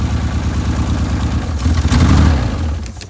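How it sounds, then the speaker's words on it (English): A seized Ford Explorer engine cranking and catching, its low rumble rising to a brief rev around the middle and then fading, close and loud. "Start her up. Let's see if she still starts."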